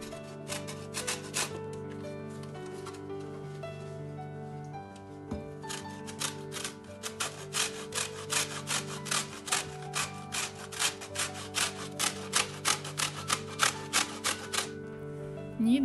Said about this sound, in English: Grate lemon zest.